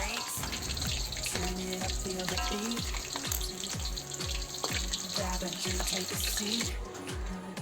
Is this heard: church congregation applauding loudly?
no